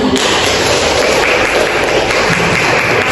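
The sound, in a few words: applause for Fabi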